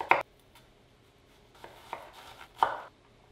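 A knife chops an onion on a board in a few sharp, separate strikes, with one stroke at the start and a small cluster of cuts near the end, close and crisp against quiet.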